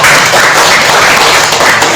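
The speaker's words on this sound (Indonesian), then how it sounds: "kita kasih tepuk tangan untuk kelompok 2" A classroom group gives a short burst of clapping for the second group, steady and fairly loud, lasting about two seconds with no talk over it.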